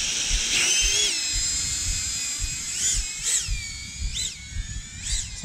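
FPV RaceWhoop micro drone flying on 8-blade propellers: a close, steady high-pitched motor whine whose pitch repeatedly swoops up and down as the throttle changes, with a faint rumble underneath.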